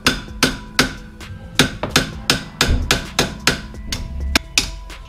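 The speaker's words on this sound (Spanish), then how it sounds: "Yo todo lo uso de martillo de plástico." A plastic hammer strikes a front left Renault shock absorber part during a repair, about a dozen sharp, close taps in a steady, slightly uneven rhythm with short ringing decays, no voices.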